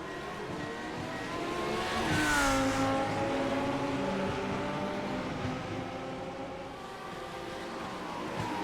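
GT3 race cars at Zandvoort accelerate together at a rolling race start, engines climbing and shifting through gears in a loud, layered howl that peaks early then holds steady as the pack pulls away; no talking.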